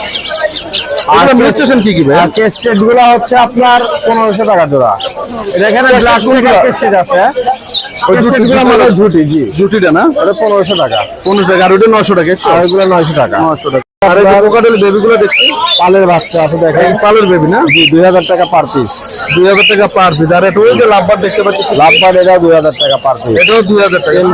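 Lovebirds and other small cage birds chirp and tweet constantly in a busy bird shop, a dense, loud chatter of close calls running under near-continuous talking.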